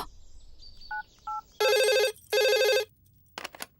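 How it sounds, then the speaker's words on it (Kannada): A telephone call to a manager, placed from a broken-down vehicle in a Kannada horror thriller film, gives two short beeps and then two long, loud ringback tones separated by a brief pause. "ಚರಣ್, ಮ್ಯಾನೇಜರ್ಗೆ ಫೋನ್ ಮಾಡಿ"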